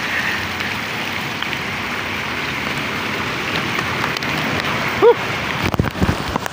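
Steady heavy rain pours down during a group motorcycle ride to Mt. Oro, a constant hiss with a brief knock and some louder rustling near the end.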